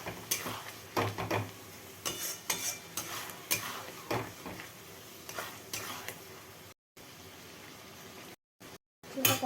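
Spice paste is stir-fried in a pan with oil for a fish kalia, a low sizzle broken by repeated scraping and clinking of a spatula against the pan, close and fairly quiet.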